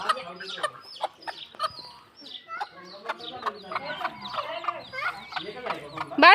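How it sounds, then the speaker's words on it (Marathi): A flock of hens clucking close by, with busy overlapping clucks and squawks in quick bursts throughout, growing louder and denser toward the end. "आल्या बघ सगळ्या कोंबड्या"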